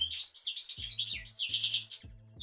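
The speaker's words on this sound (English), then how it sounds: "The bird is so loud, why?" A single bird chirping loudly nearby in a rapid, bright burst of repeated tweets, while a soft low rhythmic tapping sounds underneath.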